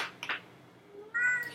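A pet cat meows in two short calls, a faint one early and a louder, clearer one near the end, close by in a quiet indoor room.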